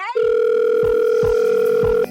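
A telephone line gives a single steady electronic tone, loud and close, lasting about two seconds before cutting off, ahead of a voicemail greeting.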